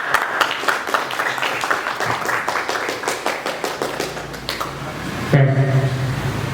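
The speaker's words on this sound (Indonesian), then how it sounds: "Kasih tepuk tangan untuk kerja." A village youth-organization candidate debate audience gives a round of hand clapping, a steady run of distinct claps fading before a tonal electronic sound enters near the end.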